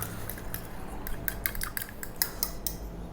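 A utensil stirs mayonnaise with lemon juice in a bowl, producing a quick series of light metallic clinks and scrapes over a soft background hum.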